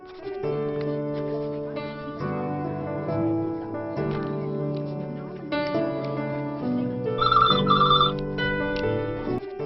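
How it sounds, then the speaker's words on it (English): A telephone rings continuously in a dubbed movie scene, a repeating electronic ring pattern that stays fairly loud and prominent throughout, with a voice partly overlapping near the end. "Paru, take the phone."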